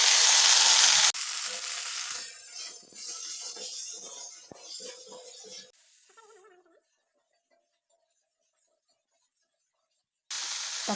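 Onion and tomato sizzling in a hot pan for fish chukka, a steady frying hiss with scraping stirs that fades out midway, then a long silence before the sizzle returns abruptly near the end.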